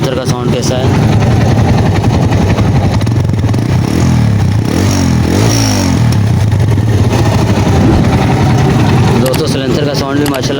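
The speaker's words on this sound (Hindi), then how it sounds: "सिलेंसर का साउंड भी चेक करा देता हूँ कि सिलेंसर का साउंड कैसा है" Suzuki GS 150 motorcycle engine running through its silencer, a loud, steady, throbbing exhaust note held close to the bike with little change in revs.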